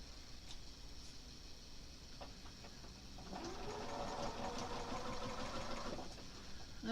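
Sewing machine stitching the final seam of a patchwork quilt house block, a quiet ticking hum that builds into a steady running whir midway and then eases off, heard close and alone.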